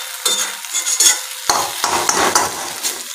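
Egg bhurji mixture cooks on high heat while a spatula stirs and scrapes the pan in repeated bursts, each followed by a short, loud sizzle up close.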